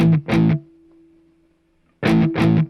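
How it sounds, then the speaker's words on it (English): Heavy distorted electric guitar hits in two quick pairs, loud and close, with a faint sustained note ringing between them. "then we kick the distortion back on"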